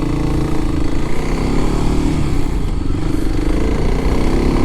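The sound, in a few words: Kawasaki KLX300SM motorcycle riding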